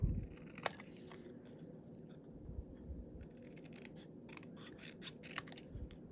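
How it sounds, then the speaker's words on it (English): Scissors snip through cardstock while a tepee-style greeting card is made, giving scattered, quiet crisp cuts and a few sharper clicks over a low background rumble, with no talking. "now I'm just going to go ahead and just cut this"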